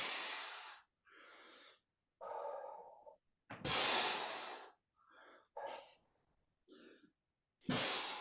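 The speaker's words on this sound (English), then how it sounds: "Breathe out on the way up." Forceful breathing during press ups, a series of sharp, close exhales and quick breaths in short bursts separated by silent pauses, roughly one every second or so.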